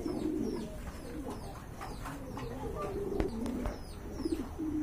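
Pigeons coo repeatedly at a pigeon farm, low murmuring calls overlapping at moderate distance amid faint chirps and light background noise.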